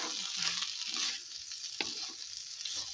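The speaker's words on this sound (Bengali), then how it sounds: "এই পর্যায়ে আমি ভেজে রাখা পোস্তটা দিয়ে দিচ্ছি পোস্তটা দিয়ে আবার আমি একটু নাড়াচাড়া করে নেব" Fried poppy seeds are stirred into onion stalks in a pan, giving a quiet, hissing fry with light scraping strokes and one short knock near the middle.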